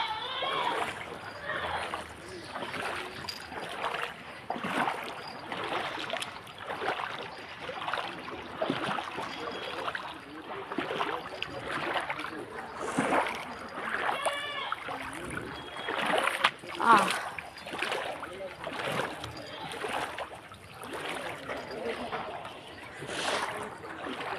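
Feet wade through flooded water on the daily route to and from work, with steady sloshing and splashing steps, close and continuous throughout.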